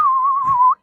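At a zoo, a person whistles one loud, steady note that wavers slightly and rises at the very end before cutting off sharply, alone and close.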